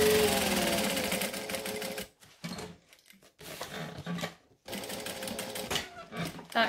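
A compact sewing machine stitches a binding seam with a run of rapid, even mechanical chatter, then stops and restarts in short bursts with brief pauses between them, close and clear.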